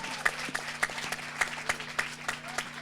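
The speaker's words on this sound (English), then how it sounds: "let's give Damon a round of applause" Scattered clapping from a small crowd, sparse individual claps over a steady low hum, fairly quiet and distant.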